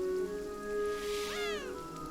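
A cat meows in the video game Beyond Eyes, a single rising-and-falling drawn-out meow heard clearly over a soft steady background hiss like rain and a sustained tonal hum.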